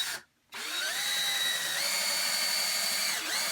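A power drill bores a plumb hole straight through a wooden form into its base, whining steadily, close and loud, after a short stop near the start.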